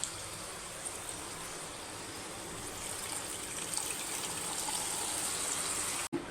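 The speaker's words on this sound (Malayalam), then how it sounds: "ഞാനിത് ഇതിലേക്ക് പിഴിഞ്ഞൊഴിക്കുകയാണ് കേട്ടോ" Tamarind water is squeezed and poured into a simmering curry, making a steady, soft liquid gush and trickle that runs continuously for several seconds, close by, without talk.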